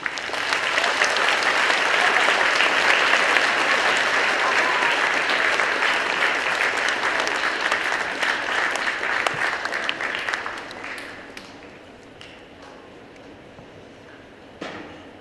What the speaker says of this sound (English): please give us a round of applause to Mr.